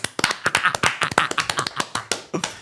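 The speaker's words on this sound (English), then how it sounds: "Round of applause for Nando's" A small group claps in a quick, uneven patter of sharp slaps in a casual studio show setting, close and fairly loud, with no talking over it.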